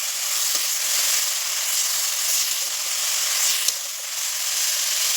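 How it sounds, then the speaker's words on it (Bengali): Steamed banana blossom, seasoned with salt and turmeric, fries in a pan with a dense, continuous hissing sizzle, steady and close, with a single faint clink partway through. "খুব সুন্দর করে ভেজে নেবো।"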